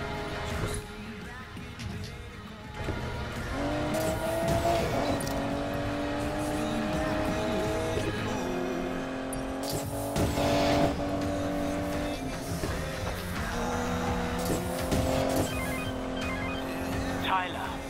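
Car engine in the Need for Speed Payback video game rising in pitch as it accelerates, loud and steady throughout, with game voices talking over it and brief tire noise.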